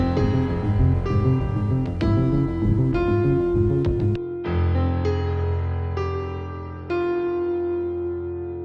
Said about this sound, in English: That next section sounds like this with the piano in it.